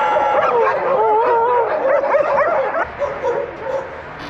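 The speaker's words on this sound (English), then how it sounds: "There is like a crazy amount of dogs here." Many dogs at an animal shelter bark, yip and whimper together in a close, overlapping chorus, with high wavering howls rising over the din and no talk.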